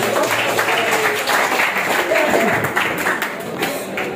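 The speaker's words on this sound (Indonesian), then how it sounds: "oke, tepuk tangan." Schoolchildren in a classroom clap their hands together during a creative integrity lesson, a busy burst of clapping with some voices mixed in through the middle and a slight fade toward the end.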